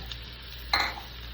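Deboned rotisserie chicken stir-fried for sisig, a faint low sizzle with one brief scraping stir in the middle.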